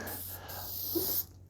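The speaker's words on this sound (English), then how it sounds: "I'm going to go ahead and spray some more" A short, close hiss of tire lube sprayed from a can onto a motorcycle rim on a Harbor Freight tire changer. It lasts about a second and cuts off abruptly.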